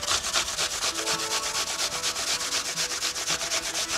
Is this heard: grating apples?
yes